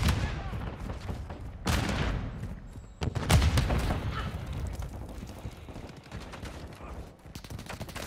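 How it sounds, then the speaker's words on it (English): Gunfire in the video game Call of Duty: Modern Warfare II, bursts of rifle shots and fusillades layered with game effects, loud at times and fading back, with radio-style voice lines mixed in. "Taking enemy fire!"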